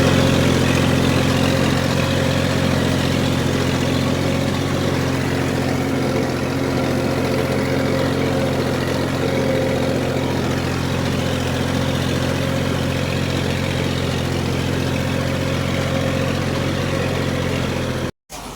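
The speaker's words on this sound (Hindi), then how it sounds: "ट्रैक्टर लेकर आ गए हैं" A tractor engine on a farm field runs at a steady, loud idle with a constant low droning hum throughout, close by, cutting off abruptly near the end.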